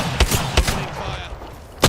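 Gunfire in the battle royale shooter Apex Legends: a few sharp shots at irregular intervals, with a final loud report at the end, over a dense bed of game sound and effects.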